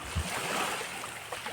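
Sea waves wash around a boat out in open water, a steady broadband surge with a brief low thump near the start, steady wind across the microphone, and no talk.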